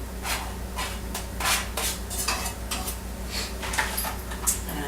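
Chopped parsley and rosemary get stirred into a mixture for stuffed pork loin, a spoon clinking and scraping against the bowl in irregular close taps and rubs.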